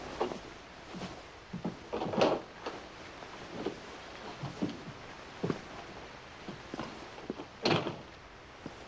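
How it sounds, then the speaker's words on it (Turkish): A door being opened in a 1956 western film, with a series of wooden knocks, creaks and thumps spread irregularly over several seconds, a louder bump near the end. "kapıyı aç"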